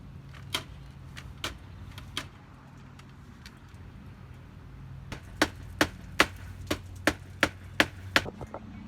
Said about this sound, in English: We're gonna use little white aluminum nails to secure the metal wrap.